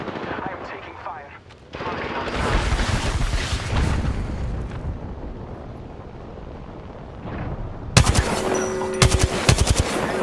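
Gunfire in the video game Apex Legends, with dense bursts of automatic shots, booms and rapid cracking reports, loud and layered over continuous game noise.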